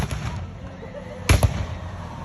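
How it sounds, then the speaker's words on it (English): Three rifles fire in a volley during a pirate show at the King County Fair in Washington, heard as a sharp report and a quick second crack against steady outdoor crowd ambience. "Got 3 rifles."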